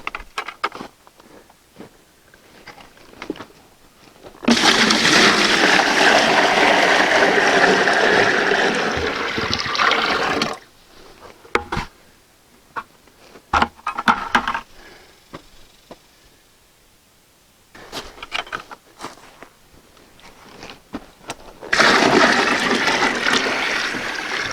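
Water poured from a pair of 5-gallon buckets into a chicken watering system, a loud steady gushing rush lasting several seconds, then quieter handling and sloshing before a second strong pour.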